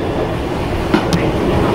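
Low steady rumble of a metro train in a station, with a couple of brief faint clicks and squeaks over the continuous hum.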